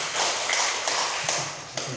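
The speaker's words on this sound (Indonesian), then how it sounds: "Tepuk tangan untuk kita semua." An audience claps together in a seminar room during a motivational talk, a dense, steady patter of many hands lasting a couple of seconds with no voice over it.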